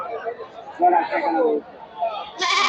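Goats bleating at a crowded goat market, several loud close calls over steady crowd chatter and background hubbub.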